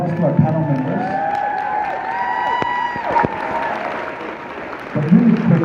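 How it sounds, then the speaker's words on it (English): An audience at a leadership retreat applauds panel members, a continuous wash of clapping and cheering that lasts throughout, with voices and whistle-like tones rising over it. "Big round of applause to our panel members."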